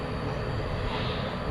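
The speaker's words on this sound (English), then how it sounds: "The Qantas A380." A Qantas Airbus A380 passes at night at DFW Airport, its steady broadband jet roar holding level and fairly distant throughout, with no voices.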